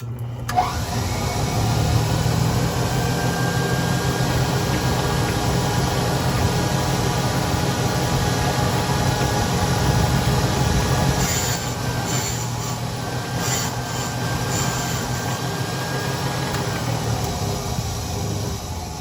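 Valve seat cutting machine set at a 45-degree angle cutting an engine valve seat, a continuous loud whirring hum with a thin steady whine over it, no talk.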